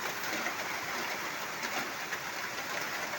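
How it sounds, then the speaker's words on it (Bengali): Heavy rain falls steadily in a dense, even hiss that fills the whole stretch without letup, with no voices over it. "এখনও খুবই প্রচণ্ড পরিমাণে বৃষ্টি হচ্ছে"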